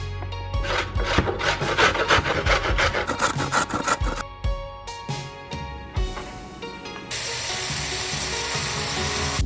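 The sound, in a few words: shredding carrot on a grater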